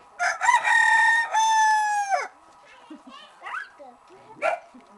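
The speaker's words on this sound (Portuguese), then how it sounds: "Esse é o galo Tuti" A rooster crows loudly and close by in one long drawn-out call, followed by quieter clucking and a few short bird sounds.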